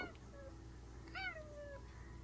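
Cat meowing indoors, a faint early mew followed by one clear rising-falling meow, soft and nearby over a low background hum.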